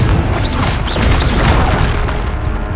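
A Confringo blasting curse explodes in Hogwarts Legacy, a dense, loud booming roar that fills the whole moment with sustained crashing rumble and no pause.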